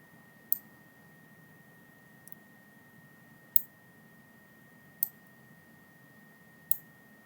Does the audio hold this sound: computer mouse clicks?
yes